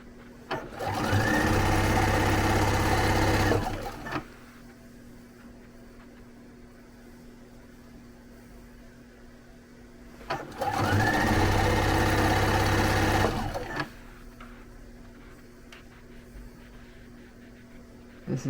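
A sewing machine runs in two steady bursts of a few seconds each, stitching down the center of tape on a chenille pillow, close and fairly loud with quiet gaps between.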